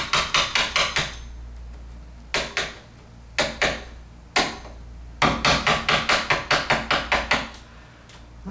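A mallet strikes a chisel cutting into a wooden door for a privacy handle, sharp close knocks landing in quick bursts of several blows separated by short pauses.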